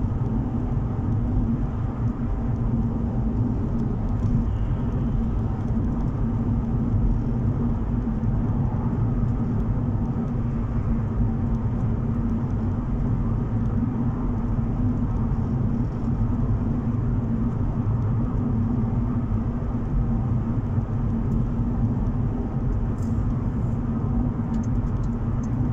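A car drives along the eastern ring road on a quiet Sunday, giving a steady, continuous engine and road rumble heard from inside the cabin, close and even throughout with no talking.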